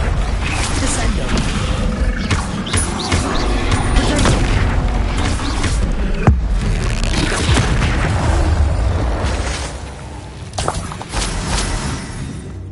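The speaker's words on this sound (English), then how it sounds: "Bombarder! Confringo! Glacius! Incendio! Defender! Expelliarmus! Arresto Locatum! Descendo!" Spell explosions in Hogwarts Legacy combat roar and boom in heavy, overlapping bursts, with a sharp crack midway and a brief dip before the rumbling resumes near the end.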